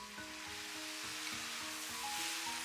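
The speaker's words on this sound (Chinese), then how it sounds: "开大火，快速的给它翻炒" Eggs, sauce and onion stir-fry in a wok over high heat, giving a steady hiss of sizzling broken by quick, rhythmic tossing and scraping strokes, close and without speech.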